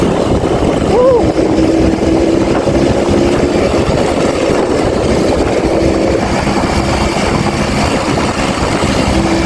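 A Yamaha V80 Super Deluxe motorcycle ridden on a road in West Java, its small engine droning steadily and loudly under rushing wind throughout, with a brief rising tone early on.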